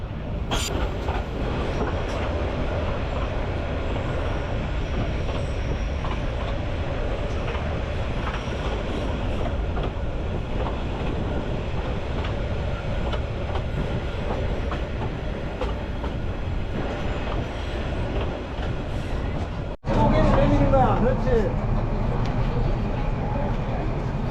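A tram train runs through the countryside of Dalat, Vietnam, its carriage giving a steady rolling rumble and rattle heard from on board throughout, with a sudden louder jolt and clatter near the end.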